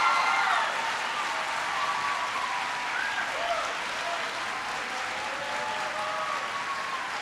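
A school audience gives sustained applause for the principal at an education event, a dense wash of clapping that holds steady at moderate loudness for several seconds, with a few faint whoops and voices mixed in.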